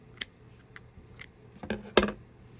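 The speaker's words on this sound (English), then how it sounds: "We're going to go ahead and cut our work." Scissors snipping crochet yarn close up, with a few light metallic clicks followed by a louder double snip near the end, crisp and alone with no voices.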